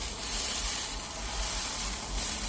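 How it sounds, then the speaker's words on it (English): Picanha steak sears on a hot plate, pressed down flat, giving a steady, loud, close sizzle and hiss that continues unbroken from start to finish. "I'm pressing it down to get good contact with the hot plate."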